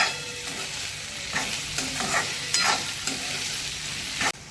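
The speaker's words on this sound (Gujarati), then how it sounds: "હવે એમાં આપણે ટામેટા એડ કરીશું। પછી બધું મિક્સ કરી દઈશું અને બધું ચડવા દઈશું" Onions and tomatoes being stirred in a frying pan for a chana poha breakfast, with a spoon scraping in bursts over a constant close sizzle.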